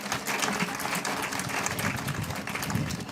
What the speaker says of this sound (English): Let's give her one more big round of applause as our new Miss Rice Festival Teen Queen.